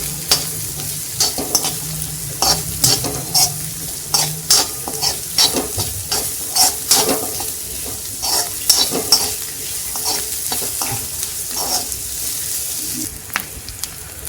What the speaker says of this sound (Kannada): ಇದನ್ನು ಚೆನ್ನಾಗಿ ಫ್ರೈ ಮಾಡ್ಕೊಂಡು ಬರೋಣ.